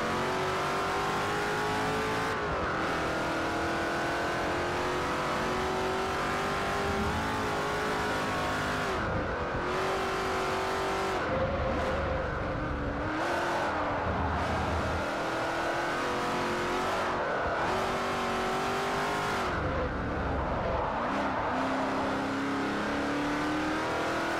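A McLaren P1 in Forza Motorsport 4 roars steadily, its engine climbing through revs and dropping briefly at gear shifts, with occasional tire squeal across a long continuous run and no talking.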